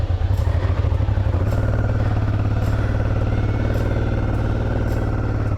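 A loaded touring motorcycle's engine revving hard while its rear wheel slips and fails to grip. The throbbing exhaust is close and loud and carries on without a break.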